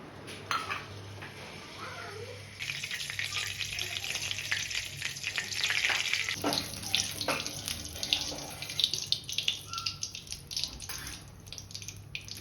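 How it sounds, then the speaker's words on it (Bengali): Marinated chicken pieces frying in hot oil crackle and sizzle steadily at close range, with the sizzle swelling loudly after a couple of seconds and scattered spattering pops on top. "এবার আমি চিকেনগুলো ভেজে নেব।"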